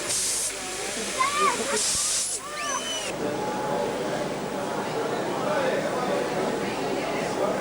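Loud, steady hiss of steam from a steam locomotive fills the whole clip, with a few brief voices and chirpy sounds near the start before the broad rushing noise takes over.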